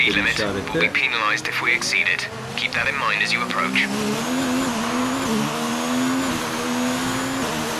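An F1 2019 racing game car's engine howls in a steady, high, slightly wavering whine with tire noise, while someone talks over the first half; the engine has a fault and is not giving full power.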